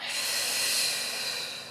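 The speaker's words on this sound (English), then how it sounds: "breathing out." A forceful Pilates exhale during a TheraBand rib exercise, a single close, strong, breathy hiss of air that swells and then tapers off over almost two seconds.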